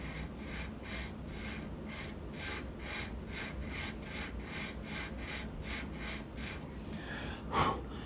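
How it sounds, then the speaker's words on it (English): A nut file works back and forth in the nut slot of a Breedlove Premier guitar, making close, evenly paced rasping strokes, about two per second, ending in a brief louder rustle. "I'm just gonna put this nut file here and then just go back and forth towards the head, towards the peg"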